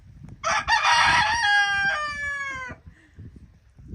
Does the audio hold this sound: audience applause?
no